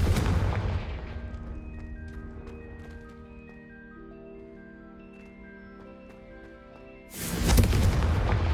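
Confringo blasting spell from the video game Hogwarts Legacy, a loud booming burst at the start fading into a sustained tonal game hum, then another heavy explosive blast near the end.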